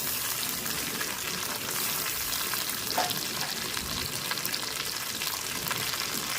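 Ginger paste fries in a pan for a gongura chicken dish, giving a constant hissing sizzle with light crackles and an occasional stir, steady and fairly close.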